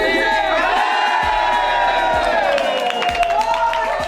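A loud concert crowd at a K-pop show cheers and screams in a dense sustained roar, with high whoops layered on top and a few low thumps beneath. No words are spoken over it.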